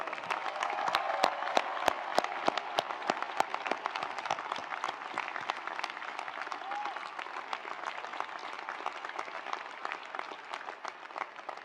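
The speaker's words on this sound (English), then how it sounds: "Let's give them another round of applause." An audience at a graduation ceremony breaks into sustained applause, a dense patter of many clapping hands that starts strong with some sharp individual claps and gradually thins, heard from a moderate distance in a large hall.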